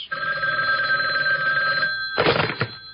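Telephone bell ringing steadily in a dental office, a clear repeating electronic-bell ring filling most of the moment, then a brief clunk as the receiver is picked up.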